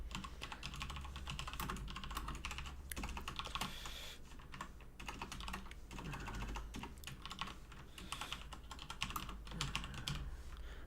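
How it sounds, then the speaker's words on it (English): A Cooler Master computer keyboard is typed on steadily and close up, dense irregular key clicks and clacks running continuously, with occasional brief pauses and bursts of faster keystrokes, no talking. "I am using this keyboard. Cooler Master."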